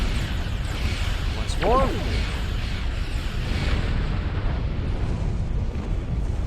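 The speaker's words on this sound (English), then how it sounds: "Fire photon torpedoes." Photon torpedoes fire in Star Trek Online, a deep booming launch with a descending whooshing tone near the middle over a steady rumble, while a voice speaks briefly.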